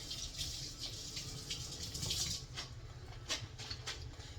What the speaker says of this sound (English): Rinse this spoon off